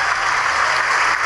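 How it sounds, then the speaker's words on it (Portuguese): Church congregation applauding together, a dense, loud, even wash of clapping with no pauses and no voices over it. "vamos aplaudir mais"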